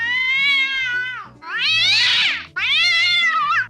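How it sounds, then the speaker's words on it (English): A cat in GTA 5 gives three drawn-out meows in quick succession, each rising and falling in pitch, close and loud with nothing else around them. "The sounds Puss makes are a combination of the sounds that cats can make in Los Santos."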